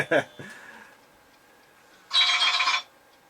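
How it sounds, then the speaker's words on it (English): A short electronic phone ring bursts out once, loud and buzzy, after a quieter stretch with a few faint clicks. "My phone's ringing"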